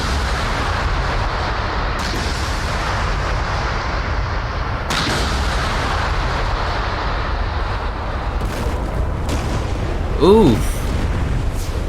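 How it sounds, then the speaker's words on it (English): Missiles exploding over a frigate in the DCS combat flight simulator, rumbling booms and bursts over a constant roar, with a brief voice exclamation near the end. "Those missiles are exploding over the frigate"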